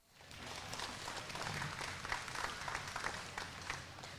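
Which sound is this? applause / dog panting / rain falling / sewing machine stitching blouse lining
applause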